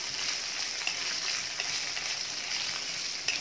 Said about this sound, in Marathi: आता आपण यात घालूया या मिरच्या आणि मिरच्या आपल्याला छान भाजून घ्यायच्या आहेत